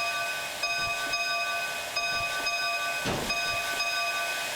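An S282 steam locomotive shunts in a rail yard in the train simulator game Derail Valley. A steady mechanical whine and hiss runs throughout, with irregular soft chuffs and a louder burst of steam near the end. Nobody speaks.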